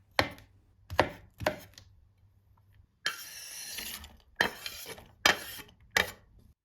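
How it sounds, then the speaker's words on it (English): Sharp knife strikes on a cutting board while chopping an onion into small cubes, a few spaced chops then a quicker cluster of crisp cuts, close and clear with no talking. "Chop 1 medium onion into small cubes."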